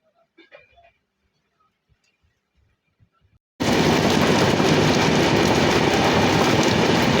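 Express train from Yesvantpur Junction to Vasco da Gama, near-silence with faint scattered sounds, then an abrupt switch to a loud, steady rumble of wheels on rails for the remaining seconds.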